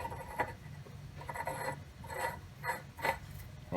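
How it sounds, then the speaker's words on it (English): Cap being screwed back onto the hydraulic reservoir of a zero turn mower, with close, soft rhythmic scraping and clicking twists repeating about every half second. "I'm going to go ahead and screw the cap on."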